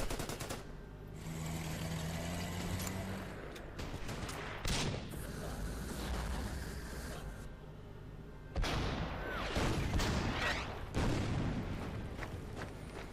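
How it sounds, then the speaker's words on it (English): Artillery and gunfire in Order of Battle: Red Steel, a wintry WWII strategy battle, with a steady rumble of distant firing, several louder booms around the middle and a heavier burst near the end. "Those artillery pieces sure are annoying."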